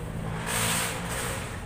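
A Mazda R2 2.2 diesel engine in an owner-type jeep revs once, swelling to a rough, loud roar up close and then easing back to a steady idle.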